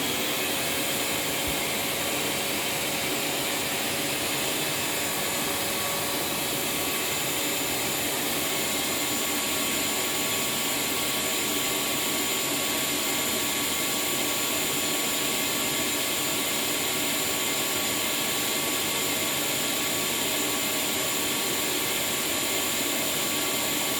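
A Fairfax vacuum runs continuously with air rushing through its laid-out hose, a steady, loud, broadband whooshing roar with a faint whine and no pauses.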